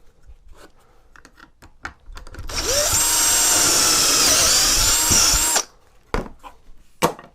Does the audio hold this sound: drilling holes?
yes